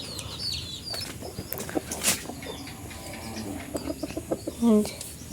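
Desi chickens cluck in short scattered calls around a farmyard, with a louder squawk near the end and faint background bird chatter.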